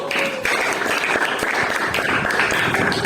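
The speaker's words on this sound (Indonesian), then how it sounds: "tepuk tangan untuk kelompok 1" Classroom students clap together for a presenting group, a steady patter of many hands lasting a few seconds, moderately loud and alone.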